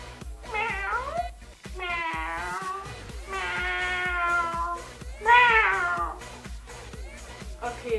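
A voice imitates a cat, producing several drawn-out, rising and falling meows at close range, recorded as an animal-sound message for WhatsApp, with short gaps between the calls.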